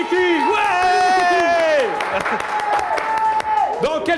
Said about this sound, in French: on applaudit très fort François Corbier